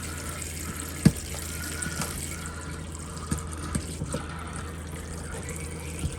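Water runs steadily from a tap in a Mclouis Tandy 640 motorhome with the water pump switched on, a continuous splashing flow punctuated by a few sharp clunks and knocks.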